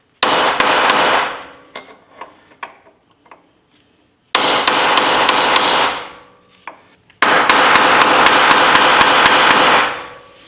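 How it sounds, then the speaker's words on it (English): A hammer punches lock nuts into their channels during a Ferrari wheel bearing replacement. Three long runs of loud, ringing, rapid metallic strikes come close up, separated by a few scattered single taps. "the last thing we gotta do is punch the nuts into the those two little channels"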